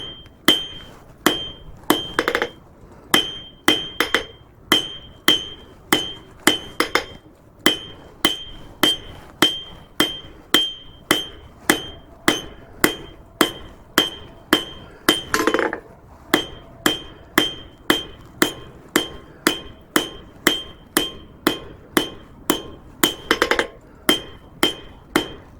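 A blacksmith hammers a forged metal cabinet handle with the rounding side of the hammer, a long, steady run of sharp ringing strikes on the anvil at an even rhythm, close and loud with no talk.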